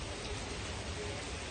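Heavy typhoon rain comes down as a dense, even hiss that fills the whole moment with no breaks and no voices.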